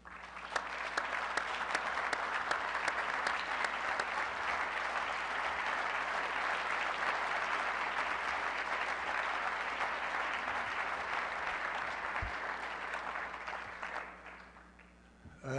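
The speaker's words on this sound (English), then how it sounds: "give a big warm round of applause for Corporal Jim Blaine" A large audience gives sustained, warm applause welcoming a United States Marine Corps corporal, steady dense clapping lasting many seconds before fading out near the end.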